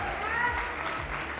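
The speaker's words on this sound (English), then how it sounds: "Please give her a big round of applause." Applause from the audience at a sports awards ceremony, a steady wash of clapping heard at moderate level over a continuous roomy background, with a voice faintly present underneath.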